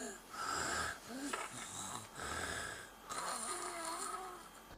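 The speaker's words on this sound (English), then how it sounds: "Sleep arousal is often accompanied by loud snorts or gasps." Loud snorts, wheezes and gasping breaths from a sleeper whose airway reopens during sleep arousal, in a series of close, rough, pulsing bursts across several seconds.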